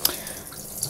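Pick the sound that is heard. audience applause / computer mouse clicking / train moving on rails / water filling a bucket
water filling a bucket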